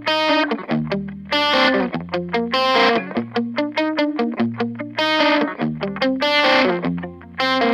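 Distorted electric guitar lead tone played through a Radial Tonebone Trimode tube overdrive pedal with a boosted midrange and a brightened setting, loud and alone, sustained notes alternating with fast picked arpeggio runs.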